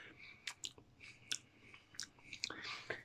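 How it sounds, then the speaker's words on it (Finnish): Soft, close smacking and wet chewing sounds from someone eating salted licorice raspberry sour candy, a string of small clicks and lip smacks at low volume. "tää oli tämmöstä maiskuttelua"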